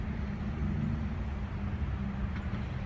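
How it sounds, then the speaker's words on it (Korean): Car traffic on a road along the edge of a park in Canada makes a steady, broad roadway rumble with no distinct passes standing out. "여기는 공원 외곽이라서 찻길도 있고 차 소리가 좀 들리긴 합니다"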